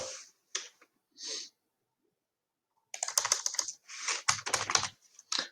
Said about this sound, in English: This is what I get for typing and talking at the same time.